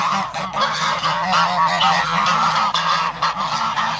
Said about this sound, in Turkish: Bunlar geçen sene benim yavrudan büyüttüğüm kazlar arkadaşlar. Beni görünce karşılamaya geldiler.